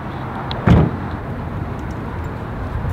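The door of a Hermes edition Pagani shuts with a single solid thud over a steady background hum.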